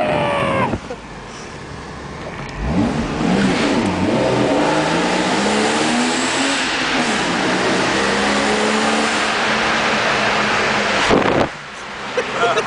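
A car drives through a road tunnel, its engine drone and tire rumble echoing loudly and steadily for about ten seconds, with revving swells and a brief quieter stretch at the start and end.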